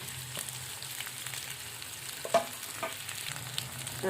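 Onion, tomato and potato fry in oil in a pan, giving a steady, close sizzle that runs throughout. A faint stir or clink comes partway through, and no voice is heard.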